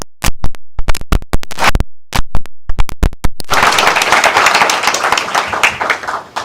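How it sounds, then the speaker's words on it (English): A conference audience applauds events manager Jodie Vickery: a handful of loud, separate claps come first, then at about the halfway point they swell into full, dense applause that continues to the end. "Perhaps we can have a round of applause for her."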